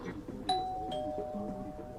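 A doorbell chimes twice, a bright ding-dong in quick succession with the second tone ringing on, heard indoors during a student stage play.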